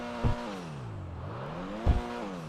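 Pfister Comet SR sports car engine in GTA 5 Online revs twice with sharp bursts, its pitch sweeping down and then climbing back up between them, loud and close with no talk.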